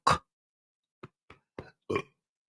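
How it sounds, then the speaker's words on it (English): A short burp opens, followed by a pause and then a few quieter gulping, croaky sounds in quick succession, close to the microphone. "I burped."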